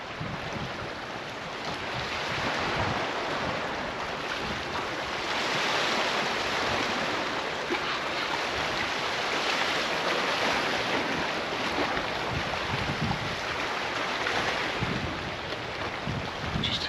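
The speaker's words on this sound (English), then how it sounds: "Just hear the water lapping against the rocks." Sea water laps gently against rocks along the Mallorca coast near Palmanova, a steady, soft wash with no big crashing waves, mixed with a breezy rush of wind on the microphone.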